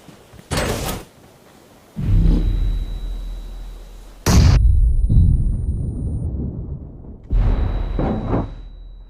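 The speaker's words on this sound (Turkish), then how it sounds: "Ben yanlışlıkla bomba attım." A grenade explodes in PUBG Mobile as one of several sharp, loud bursts, each followed by a deep rumbling tail, separated by brief quieter gaps.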